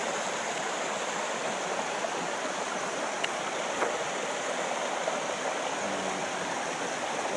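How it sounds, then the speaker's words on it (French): A small river stream flows steadily beside a hiking campsite, a constant near rushing wash of water with no breaks and no voices. "la petite rivière est là où c'est que je me ravitaille en eau"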